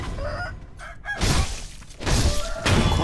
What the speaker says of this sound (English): Be quiet, chicken. Shush.